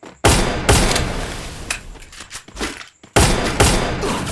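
Gunfire in a shooter video game during a headshot: dense bursts of rapid shots start and stop abruptly, with a long volley, a lull of scattered quieter hits, then another heavy burst.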